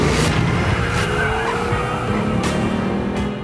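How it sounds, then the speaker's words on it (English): A 2018 Kia Stinger in a TV commercial reverses fast and spins through a J-turn: loud, close engine roar with prolonged tire squeal and skidding, easing slightly toward the end. "he gets in this car, and he goes reversing really fast backwards, then does a J-turn, this J-turn spin"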